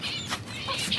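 Chickens, including chicks near an Aseel hen, cluck and chirp in a busy, close flurry of short calls in a backyard coop.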